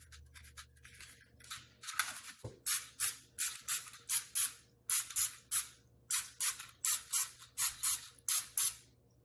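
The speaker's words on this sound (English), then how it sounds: "Give them a quick spray so that way the cooked muffin will come easily out of its casing." Short hissing bursts of aerosol cooking spray onto muffin cups, about a dozen quick puffs in an uneven rhythm, close by, with faint clicks between them.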